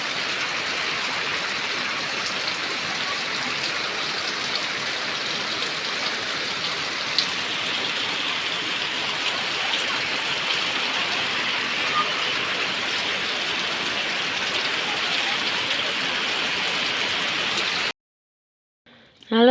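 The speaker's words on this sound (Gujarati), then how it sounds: "આખી રાત વરસાદ વેઠો અટાણી હજી ચાલુ ને ચાલુ છે" Heavy rain pouring steadily over a village after falling all night, a dense, even hiss of drops on surfaces that continues for most of the clip before cutting off near the end.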